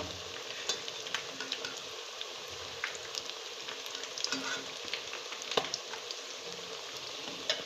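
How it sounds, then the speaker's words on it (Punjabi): Potato tikki coated in besan batter, filled with peas, potato and poha, frying in hot oil at home, giving a steady crackling sizzle with scattered pops throughout, fairly close and without voices. "ਆਲੂ ਦੀਆਂ ਟਿੱਕੀਆਂ ਚਾਹ ਦੇ ਨਾਲ ਲਓ ਜੀ ਆ ਰਹੀਆਂ ਤਲੀ ਜਾ ਰਹੇ ਆ ਅਸੀਂ ਇਹਨਾਂ ਨੂੰ"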